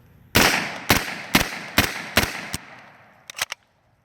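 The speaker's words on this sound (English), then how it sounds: "we were able to finally make it through that mag. That was Fiocchi, 115 grain" An Omega MP5 firing Fiocchi 115 grain ammunition: five loud, evenly spaced close shots, then a pause and a quick burst of three more sharp reports before it stops.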